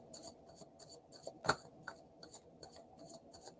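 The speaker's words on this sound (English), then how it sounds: "Did a good shuffle that time." Tarot cards riffled and shuffled by hand, a quick run of about a dozen short papery flicks and slaps at close range, with one sharper snap partway through, in an otherwise quiet room.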